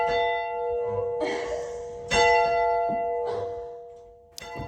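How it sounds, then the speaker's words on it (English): A church bell in Portsmouth, North Carolina, rings out in slow, resonant strokes about a second apart, each ringing tone lingering and overlapping the next, heard clearly with no talk. "You ring the church bell."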